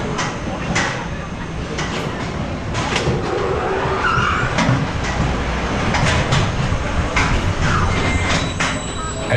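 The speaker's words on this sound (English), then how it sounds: "As the coaster comes to a complete stop" SheiKra roller coaster at Busch Gardens Tampa braking to a stop, a steady loud rumbling roar of wheels and rails with scattered hissing and screeching bursts, continuous throughout, with faint voices mixed in.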